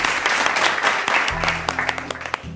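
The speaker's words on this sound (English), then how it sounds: "Please give a round of applause for my all black aunt" Studio audience applause for a performer on a comedy show, a dense wash of clapping running throughout with a low music bed entering partway.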